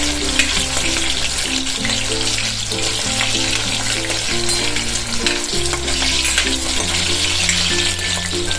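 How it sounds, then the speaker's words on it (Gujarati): Ten small onions frying in oil for a chana dal shaak, a steady, close broadband sizzle that runs unbroken throughout, with a tonal music bed playing underneath. "તો એમાં આ ડુંગળી આપણે તળી લેવાની છે, નાની નાની 10 ડુંગળી છે."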